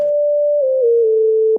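A synth lead plays a grace note that slides down into a sustained note, clean and loud.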